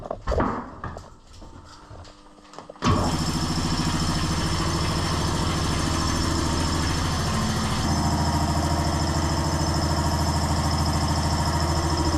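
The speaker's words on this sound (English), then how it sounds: "re-energizing, closing the main breaker to the workshop compressor" A workshop air compressor starts after its main breaker is closed: a few clicks and rattles come first, then a loud, steady mechanical drone that runs without a break, close by and heard alone.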